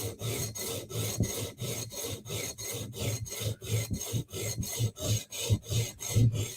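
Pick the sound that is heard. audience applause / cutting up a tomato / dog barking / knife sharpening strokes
knife sharpening strokes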